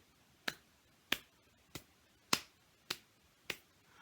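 Six light, isolated hand claps, one person cupping hands to imitate flags flapping in wind, evenly spaced about every half second, crisp and close in a quiet room.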